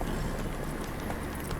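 Horse hooves clip-clopping at a steady run in The Witcher 3, a continuous rhythmic drumming of close, fairly loud footfalls with no talk over it.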